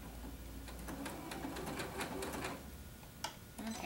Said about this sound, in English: I'm just going to sew along here real quick.